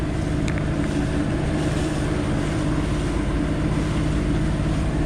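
A boat motors along at just under 7 knots in a following swell, its engine a steady, loud, continuous drone with tonal hum and rushing water noise, unbroken for the whole stretch.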